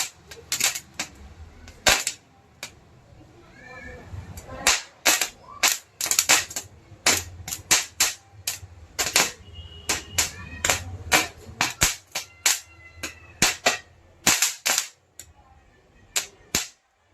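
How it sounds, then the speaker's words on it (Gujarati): Firecrackers of a kind called Kumbhu Chorus burst in a long, rapid string of loud, sharp cracks and pops, closely spaced and irregular, continuing steadily for well over fifteen seconds. "કુંભુ ચોરસ ફોડીને બહુ સરસ લાગ્યું અને તે બહુ લોંગ સુધી ચાલ્યું"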